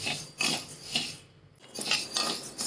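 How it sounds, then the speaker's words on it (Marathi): Whole spices dry-roasting in a pan for a rustic Maharashtrian yesur masala, with several dry scraping, rattling stirs repeating close by and a brief quiet pause midway. "सर्व मसाले भाजून घेते मी आता।"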